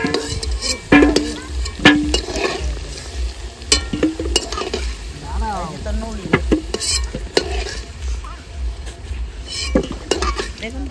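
Potatoes sizzle and fry in hot oil in a wok while a utensil scrapes and clinks against the pan in repeated stirring strokes, loud and close.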